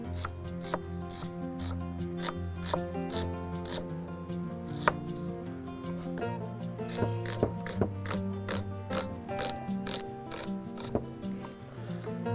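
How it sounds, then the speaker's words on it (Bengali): A knife finely chopping sliced onion on a board, quick regular strokes in a steady rhythm, close and fairly soft, with no talking. "পেঁয়াজটা স্লাইস করে কুচি করে মিহি করছি আমি।"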